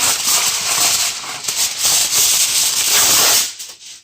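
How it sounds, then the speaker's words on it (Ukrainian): Baked mackerel is wrapped in aluminium foil, loud close crinkling and rubbing of the foil in a continuous rustle that stops abruptly near the end. "і замотуємо рибу у фольгу"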